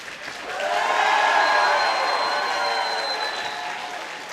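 A convention panel audience applauds and cheers, a dense sustained clatter of clapping with crowd voices that swells and then holds steady for several seconds.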